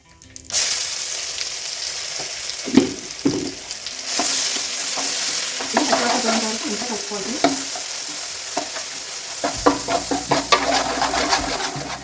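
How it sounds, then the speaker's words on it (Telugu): Cumin seeds with ginger garlic paste frying in hot oil for an egg masala curry, a steady close sizzle with occasional stirring clatter throughout, no talking. "ఇప్పుడు ఇదే ఆయిల్లో కొంచెం జీలకర్ర అల్లం వెల్లుల్లి పేస్ట్"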